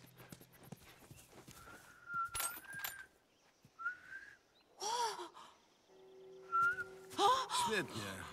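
A character whistles in The Last of Us Remastered, with several short whistled tones and a rising attempt amid breaths, gasps and footsteps, fairly close and moderately loud, with no clear talk.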